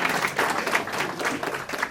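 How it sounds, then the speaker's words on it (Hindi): Audience at a hospital retirement event breaks into continuous, dense applause, many hands clapping close by throughout with no talk. "उनके लिए ताली हो जाए।"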